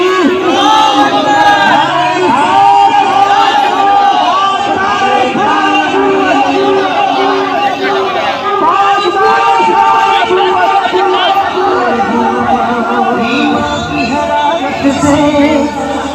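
A large crowd at a Yom-e-Khatm-e-Nabuwat rally in Pan Mandi, Karachi, roars a loud, sustained chant answering the Nara-e-Takbeer call, many voices surging together continuously with a lead voice over them.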